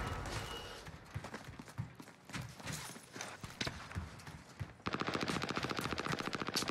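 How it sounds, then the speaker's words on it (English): Gunfire in Call of Duty Warzone Pacific on Rebirth Island, with scattered single shots and footsteps before a loud, rapid automatic burst near the end. "They're sniping, bro."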